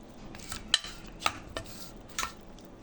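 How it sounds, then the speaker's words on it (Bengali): Chopped capsicum, carrot and onion pieces being tossed together in a bowl with chicken for shashlik, giving a few sharp clinks and scrapes spaced apart over a soft rustling background. "তো সবজিগুলো এখন মিশিয়ে নিব"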